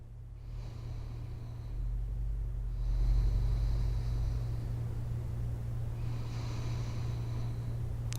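Slow, deep yoga breathing in a gentle sunset yoga session, with long drawn-out inhales and exhales heard close. Soft airy breaths rise and fall over a steady low background hum.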